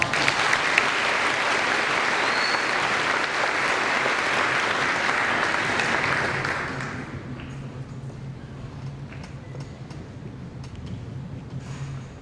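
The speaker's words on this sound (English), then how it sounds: "Please give me a round of applause" Audience applause at an eighth-grade moving-up ceremony at AES New Delhi: steady broadband clapping for about seven seconds, then it fades off into quieter room tone with a low hum.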